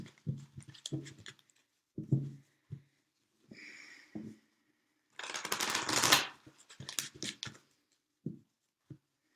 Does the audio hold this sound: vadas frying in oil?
no